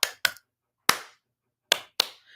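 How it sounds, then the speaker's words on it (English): Hands clap five times in an uneven rhythm, each a sharp, close, dry slap with silence between. "You can clap."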